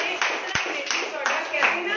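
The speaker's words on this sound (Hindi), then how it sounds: "तालियां हो जाए।" Applause from an audience at a herbal tea product presentation, a few seconds of steady clapping that keeps a fairly even level, with speech mixed in underneath.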